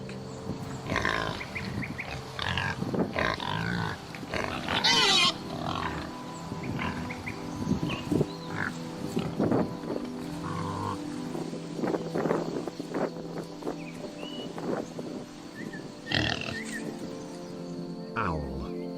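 A pig grunts and snorts in a series of rough, irregular calls, fairly close and loud, with other animal-like noises mixed in across the stretch.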